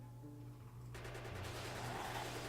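Gun turrets in the Factorio video game fire at aliens in a sudden, sustained rapid burst of automatic gunfire that starts partway through and continues steadily over a low game hum.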